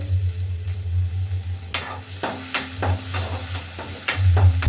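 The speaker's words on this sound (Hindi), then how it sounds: "सबसे पहले डाला ऑयल, अब इसमें डालेंगे अदरक और लहसुन अच्छे से" Ginger and garlic frying in hot oil in a pan for macaroni: a steady close sizzle with low hum, broken by several sharp stirring scrapes and clinks, no talking.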